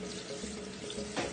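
Water rushes steadily as soaked glass noodles and bean curd are poured out to drain in a kitchen, a close, continuous splashing flow.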